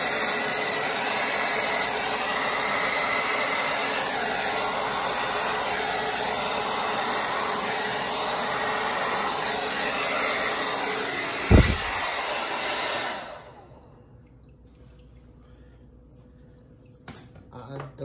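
A hair dryer blows wet acrylic paint across a canvas for a bloom pour technique, roaring steadily and loudly for about thirteen seconds with a brief clunk near the end before switching off, leaving a quiet room.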